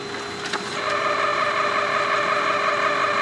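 A price label printer at a GS25 convenience store feeds out a price tag, giving a steady mechanical whirring hum with a brief click near the start. The sound is close and continuous, with no talking.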